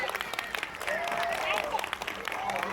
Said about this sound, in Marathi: चला तर मग आपल्या सगळ्या वाद्यवृंदाच्या कलाकारांसाठी एकदा जोरदार टाळ्या होऊन जाऊ दे